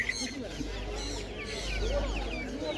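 Several chickens at a busy outdoor pet market cluck and chatter continuously nearby, with the crowd murmuring steadily underneath.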